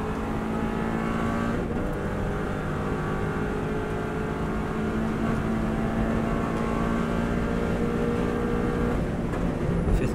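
A Subaru WRX STI engine pulls at full power on the Isle of Man road course, a loud, continuous, strained roar from inside the car that holds steady through the run with no speech.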